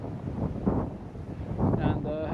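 Gusty wind buffets the microphone in a steady low roar at a hilltop viewpoint on the Via Transilvanica trail in Bucovina, Romania, with some faint background noise throughout.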